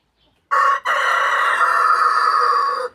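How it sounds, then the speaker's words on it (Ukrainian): A rooster crows once in a long, loud call close by, with a brief break near the start, on a rainy-season homestead garden. "Півень привіт передає."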